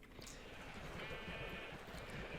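Minecraft sheep bleat faintly in a quiet game scene, a few soft wavering cries over low background noise.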